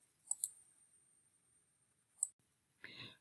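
Computer mouse clicks, a quick double click near the start and a single click about two seconds later, crisp and close in a quiet room, followed by a short rustle at the end.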